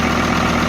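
A Kubota tractor engine runs steadily at idle, a loud close continuous rumble with no pauses or voices.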